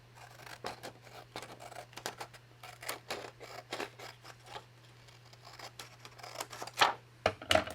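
Scissors snipping through card for a woodland junk journal tag, a string of quick, quiet cuts at an uneven pace, close up, under a low steady hum and with no talk.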